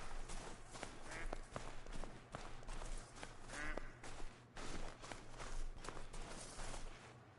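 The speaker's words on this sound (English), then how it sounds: "I can still hear ducks calling over me" Ducks quack in the distance on an outdoor hunting trip on a ridge, faint calls mixed with footsteps and rustling nearby under a low steady hum.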